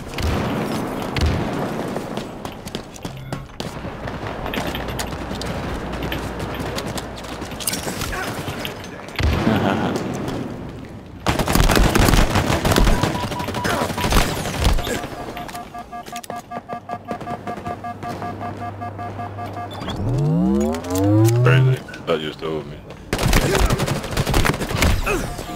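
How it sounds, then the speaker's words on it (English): Grenade blasts and rapid gunfire fill a chaotic Halo Infinite quick play match, with dense volleys, booming explosions and bursts of automatic fire running almost continuously, and voices speaking over the action. "Grenade spam is so crazy."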